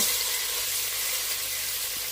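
Gentle, steady sizzle of prawns frying in a pan on low flame, an even crackling hiss that continues without pause.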